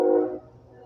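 A loud train horn cuts off abruptly after a fraction of a second, leaving a quieter low drone of passing rail traffic.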